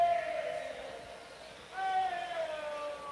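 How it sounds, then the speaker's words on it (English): Crowd noise at a St. Joseph Mustangs summer-league baseball game swells into a cheer midway, a broad roar with a few whistles, heard at a distance across the ballpark. "The crowd erupts."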